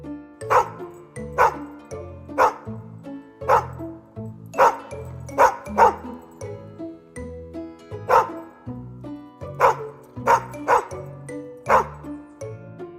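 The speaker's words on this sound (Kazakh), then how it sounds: "Бұл ит. Ит. Оф, оф, оф." A dog barks repeatedly, about a dozen sharp, evenly spaced barks, some in quick pairs, over a soft sustained musical backing.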